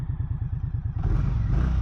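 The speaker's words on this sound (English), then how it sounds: "2024 Indian Scout Bobber 60" A 2024 Indian Scout Bobber Sixty motorcycle engine idles close by with a loud, rapid, lumpy pulse, then swells into a brief rev partway through.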